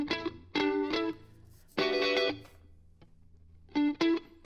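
Funk-style electric guitar played through a JJP plugin effect with boosted highs, reduced lows and reverb, heard as three short bright chord stabs with quiet gaps between them, close and clear.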